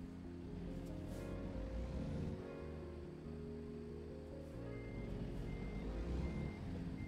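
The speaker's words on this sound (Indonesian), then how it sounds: "Truk puter balik di sini katanya." Truck reversing beeps from American Truck Simulator, a steady repeated electronic beeping over a continuous low truck engine rumble, loud and close throughout with no speech.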